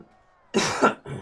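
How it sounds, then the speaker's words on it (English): After a brief quiet moment, a person coughs harshly twice and rasps to clear their throat, close and loud. "I cannot clear my throat and it is very annoying"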